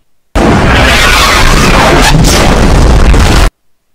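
A single massive, booming cannon blast bursts out loudly and roars on for about three seconds before cutting off abruptly.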